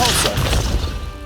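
Depulso force-push spell in the video game Hogwarts Legacy, sending objects crashing with a loud, close burst of smashing and thumping impacts amid game effects, with no talking.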